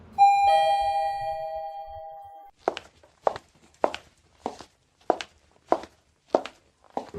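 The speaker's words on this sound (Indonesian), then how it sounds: "Suara lift bunyi lagi dong." A single electronic lift chime rings out clearly and sustains for about two seconds, followed by a steady series of regular footsteps walking nearby in a quiet office building at night.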